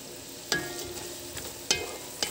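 Celery and carrots stirred in a hot pan for pansit, a soft steady frying hiss broken by a few sharp spatula scrapes and clinks against the pan.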